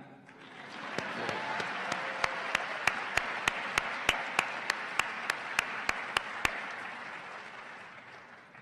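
Audience at a university moderated conversation applauding as speakers take their seats on stage, steady dense clapping from many hands over several seconds, with a series of sharp regular clicks cutting through, fading out at the end.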